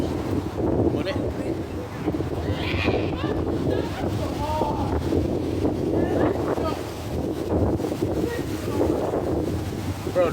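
Strong wind blows through trees outdoors, a continuous loud roar with rough microphone buffeting that holds steady for the whole stretch.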